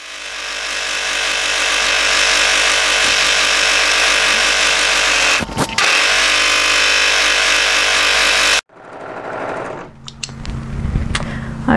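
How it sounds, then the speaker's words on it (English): An overlocker sewing machine runs loud and steady for several seconds as it finishes a raw fabric edge, then stops abruptly, leaving quieter handling clicks and rustles. "So I'm going to use my overlocker to tidy up this raw edge."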